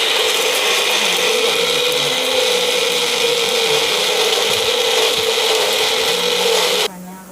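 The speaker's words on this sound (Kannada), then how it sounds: "ಈಗ ಮಿಕ್ಸಿ ಮಾಡ್ಕೊತೀನಿ ನೋಡಿ" A mixer grinder whirs loudly and steadily, grinding garlic, cinnamon, cloves and chillies for a sambar, running continuously for about seven seconds before the motor cuts off and spins down.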